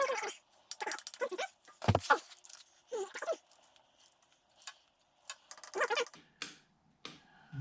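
Ratcheting clicks from a torque wrench tightening bolts on the lower protective guard of a machine, coming in short separated bursts with pauses between them, close and fairly crisp.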